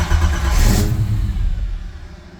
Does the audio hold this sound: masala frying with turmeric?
no